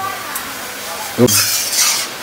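Carrot, eggplant and onion are stir-fried with spices in a hot pan. A spoon clinks once against the pan, then scraping stirs and a steady sizzle follow, close and brief.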